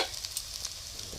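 Cabbage bhaji being stirred in a pan, a soft steady sizzle of frying with faint scraping, fairly quiet and without talk.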